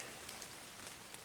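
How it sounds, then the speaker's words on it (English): Light drizzle falling steadily outdoors at a river campsite, a soft continuous patter of drops with no voices. "Got a little bit of drizzle going on right now."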